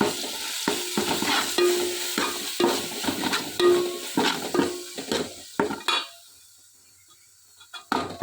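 Onion fries in a pan while a spoon stirs it, giving repeated scraping strokes against the metal over a sizzling hiss, close and fairly loud, then a near-silent pause before one last scrape.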